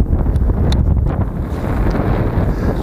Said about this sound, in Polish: Na szczycie jest dość mocno wietrznie.